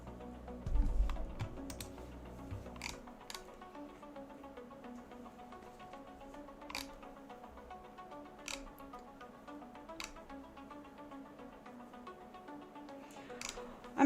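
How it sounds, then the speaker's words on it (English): Typing on a computer keyboard, soft scattered key clicks at an irregular pace, faint and steady, with a brief low thump near the start. "I'm looking down, I'm typing, I guess."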